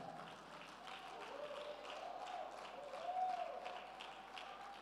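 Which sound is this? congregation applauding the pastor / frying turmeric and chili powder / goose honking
congregation applauding the pastor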